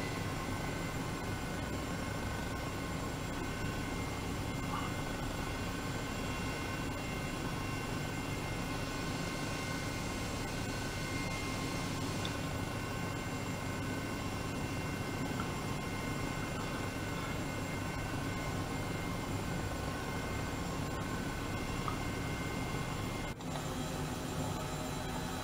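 Simulated Eurocopter EC 135 helicopter in Microsoft Flight Simulator 2020, a steady droning rotor and turbine hum held at constant loudness throughout, with a brief dip near the end.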